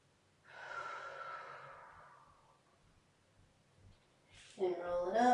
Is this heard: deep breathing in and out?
yes